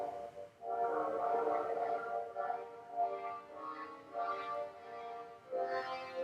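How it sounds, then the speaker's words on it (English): French horns play the brooding wolf theme from Peter and the Wolf, a sustained, swelling orchestral phrase in several held, moderately loud notes with no talking. "that is the sound of the French horns playing the theme of the wolf."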